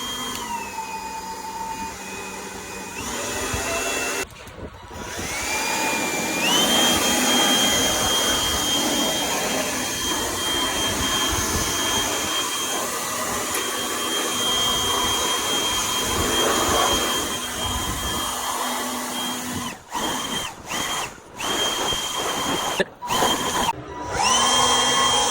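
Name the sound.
small cordless spot blower running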